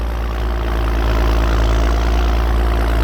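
A New Holland T7060 250hp tractor pulling a ripper runs with a loud, steady, deep engine rumble and exhaust drone, unbroken and close throughout.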